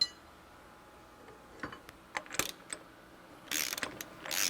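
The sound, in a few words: tightening a bolt to push a bearing out of a plate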